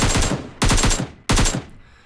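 Three loud, close bursts of automatic fire from an AKM rifle fitted with a compensator in PUBG Mobile, each burst a rapid string of sharp cracks followed by a short silence.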